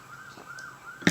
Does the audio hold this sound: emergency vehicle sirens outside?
yes